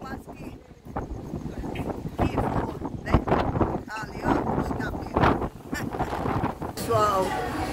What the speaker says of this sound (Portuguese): Com esse vento, pessoal.